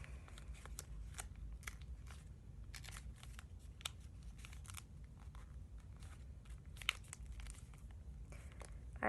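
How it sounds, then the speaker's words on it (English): Paper creasing and folding for an origami crane, with crisp rustles, crinkles and taps close by, quiet and irregular throughout. "Fold it in to match up."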